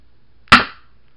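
A single sharp pop from a dart blaster firing a slug through a chronograph, close and loud with a quick decay, alone against near silence.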